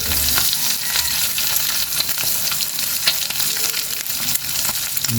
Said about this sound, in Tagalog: Nakakaluto na naman tayo ng prito.